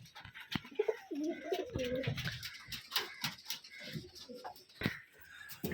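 Rajshahi gerebaj pigeons coo repeatedly at close range in a farm loft, with deep throaty calls, some rustling and faint voices in the background.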